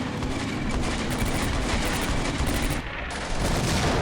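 Dense, continuous gunfire in the video game Combat Mission: Beyond Overlord, rapid overlapping shots and bursts filling the whole stretch at steady loudness, without talk.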